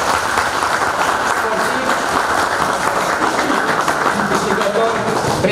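Loud, sustained applause from a large crowd at a county council meeting in Bacău, dense and even from start to finish.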